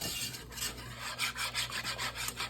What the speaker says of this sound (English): right now I'm kind of just whisking it all together